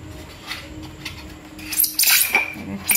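Ceramic cups and plates from a six-piece tea set being handled, with faint light clinks early on and a louder cluster of bright ceramic clatter in the second half.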